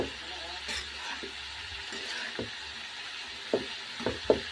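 Chicken curry sizzles quietly in a pan under a constant frying hiss, while a spoon gives scattered scrapes and a few sharp knocks near the end.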